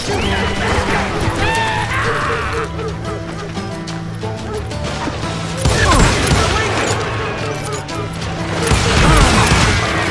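Gunfire rings out in an Old West shootout video game set in Lincoln County, with loud cracking shots and clatter over a busy game soundscape, strongest bursts near the middle and end.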